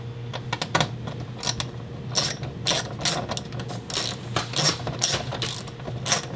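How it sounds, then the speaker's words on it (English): Quick bursts of ratchet clicking come from a hand ratchet tightening bolts on the rear tail light of a 2018 Ford F-150, several short irregular runs, close up, with a faint low hum underneath. "So when you're putting the bolts back in, make sure you start all four of them before getting them really tight."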